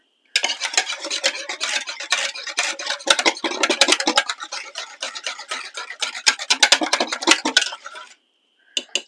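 Eggs beaten with a small whisk in a bowl for a pecan pie, a close, quick, uneven clatter of metal wires against the bowl that runs for about eight seconds and then stops.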